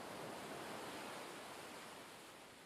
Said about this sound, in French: Et laissez pleinement votre corps s'abandonner à cette relaxation, bercé par les vagues de l'océan.